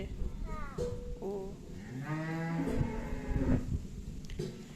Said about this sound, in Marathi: गाय चिडते